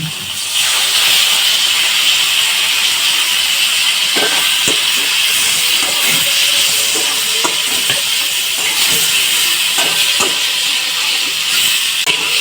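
Spices with turmeric and ginger-cumin paste frying in a pan, a loud continuous sizzling hiss with scattered crackles and scraping stirs throughout.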